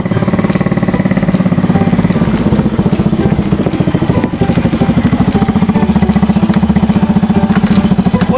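A motorcycle engine runs loud and close for the whole stretch, a steady rapid pulsing throb with no talking over it.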